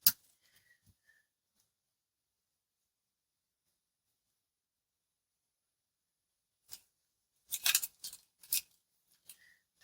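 Scissors trim paper in a quiet craft setting, with a few crisp snips clustered near the end after long silence, preceded by a faint click at the start.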